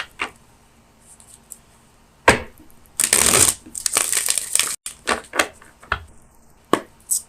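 Tarot cards are shuffled in bursts of close, crisp riffling and slapping, with a loud flurry in the middle and sparse taps and shuffles around it.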